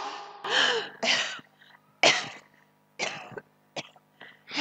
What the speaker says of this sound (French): Elle va éternuer 3 fois.